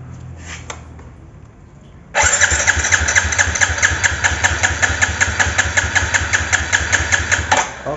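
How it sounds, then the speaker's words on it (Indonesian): A Yamaha Jupiter motorcycle with a leaking-compression engine is cranked on its electric starter during a compression test, a loud, fast, rhythmic churning that starts abruptly and runs steadily for several seconds before stopping. "kita tekan tombol starter tangan hingga tekanan kompresi di sini jarumnya berhenti berputar"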